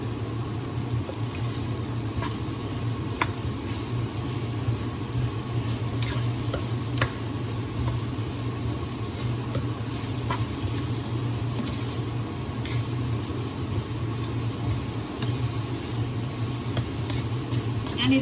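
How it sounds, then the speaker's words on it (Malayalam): Potato curry frying dry in a pan while being stirred, a steady close sizzle with scraping stir strokes and a faint hum running throughout. "ഇനി നമ്മൾ അതൊന്ന് ജസ്റ്റ് ഒന്ന് ഇളക്കി കൊടുത്തിട്ട്"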